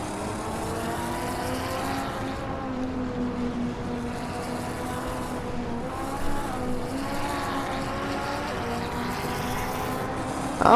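A video game race car, an Audi, drones steadily at high revs, its pitch rising and falling with gear changes, a continuous mechanical whine with no talking.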